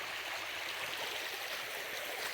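Christie Brook flows through pristine forest with a soft, steady rush of water, continuous and gentle with no voices.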